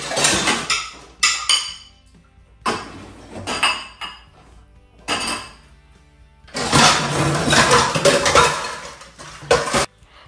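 Steel and ceramic dishes, ladles and spoons clatter and clink loudly as they are loaded into a dishwasher's lower rack, in irregular bursts with short pauses and a longer busy stretch of rattling near the end.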